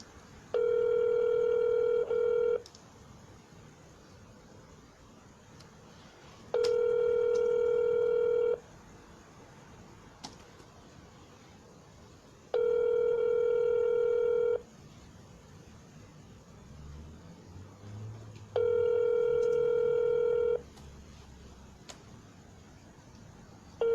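A telephone dialer system placing live phone calls sounds as steady tone bursts, four evenly spaced bursts about two seconds long separated by quiet gaps over a low line hiss, with no talking.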